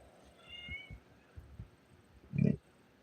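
A domestic tabby cat lets out a single short, clear meow near the end, close and fairly loud, after a few soft thumps and a faint high tone earlier in the quiet room.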